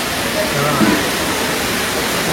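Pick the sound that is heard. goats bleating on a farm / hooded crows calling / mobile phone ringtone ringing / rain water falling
rain water falling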